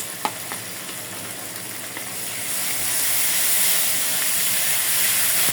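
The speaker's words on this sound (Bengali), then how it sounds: "মশলাটা একটু কষায় নেব" Spice paste of cumin, coriander, dried chilli, garlic and ginger frying in a pan, a steady broad sizzle and hiss that swells a little louder partway through, with no talking.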